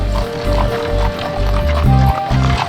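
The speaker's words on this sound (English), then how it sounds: "took us on a carriage ride to the posta" Horse hooves clop in a steady rhythm as the animal pulls a carriage on a ride in Hungary, loud and close, with faint voices and a high tonal whine in the background.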